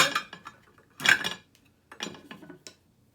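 Salt, baking powder and other dry scone ingredients stirred in a bowl, with quiet, irregular clinks and scrapes of a utensil against the bowl and pauses between strokes.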